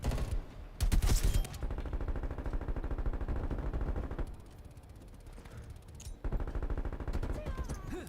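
C58 Arbitrator rifle firing in Black Ops Cold War, with sustained rapid automatic bursts, loud and dense, broken by a short lull before the firing resumes. No voices are heard.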